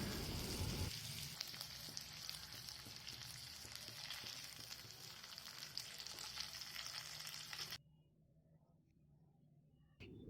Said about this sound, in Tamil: ஒவ்வொரு பக்கமும் 4 நிமிஷம் திருப்பி போட்டு ஃப்ரை பண்ணி எடுத்துக்கோங்க.